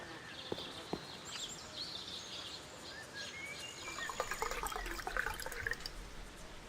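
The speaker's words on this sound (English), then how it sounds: "I'll fill it with water." Water pours into a glass in the Black Mirror game, a trickling, splashing stream that builds in the second half over quiet ambience with faint bird-like chirps.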